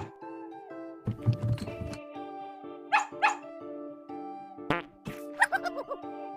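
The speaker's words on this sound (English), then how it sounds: "Where is the dog?" Dog barks from a children's animal game: a few short, sharp barks in quick bursts over steady cheerful background music, with no talking.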